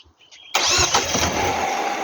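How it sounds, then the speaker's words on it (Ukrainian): A car engine cranks and catches abruptly after a near-silent moment, then settles into a steady, close idle. "машина завелася"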